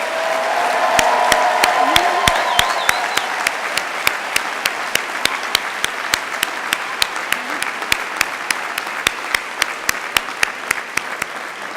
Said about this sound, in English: joining me now in a thundering round of applause for Chestnut Hills College class of 2019